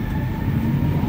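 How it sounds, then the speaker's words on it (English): A Montreal metro train runs with a steady, loud, close rumble and a faint high whine over it, continuous and even throughout, with no voices. "Now filming some metro action."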